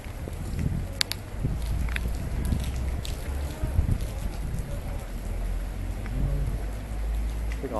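Stormy wind gusts through a city street with rain mixed in, a constant rushing wash broken by a few sharp knocks and rattles.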